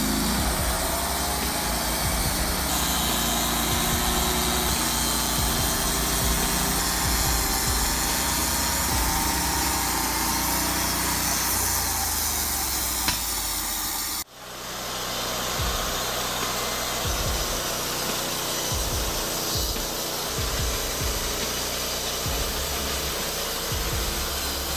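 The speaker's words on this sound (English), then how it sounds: "The Norwood Lumbermate LM40 is a versatile sawmill that can handle logs up to 40 inches in diameter." Norwood Lumbermate LM40 portable sawmill cutting logs, a steady loud engine drone with a grinding saw tone that stops abruptly midway, then restarts lower with irregular knocks and rumbles.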